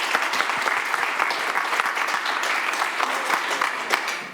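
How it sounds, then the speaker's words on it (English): Audience applause at a WordCamp Sydney 2019 page builders expert panel Q&A, dense steady clapping from a room of people sustained for several seconds. "Another round of applause for all these guys to answer the questions."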